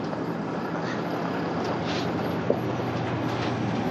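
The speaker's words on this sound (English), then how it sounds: "I don't know if you saw that, but it's another train." A train rumbles past at a steady distance, a continuous low roll of wheels on rails with faint clatter and one brief knock.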